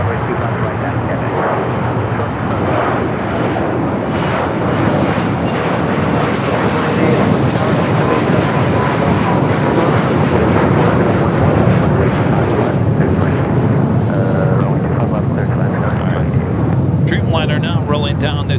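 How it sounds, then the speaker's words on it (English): A Boeing 787 Dreamliner rolls down runway 25 right at Los Angeles International Airport, a loud, steady jet roar that holds close and continuous throughout, with a voice speaking over it. "Dreamliner now rolling down to 25 at right"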